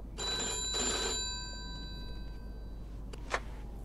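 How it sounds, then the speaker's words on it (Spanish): A telephone rings in the Mafia II video game, with two bright electric bell bursts early on, then a quiet pause and a faint click. "a contestar el teléfono a ver qué pasa"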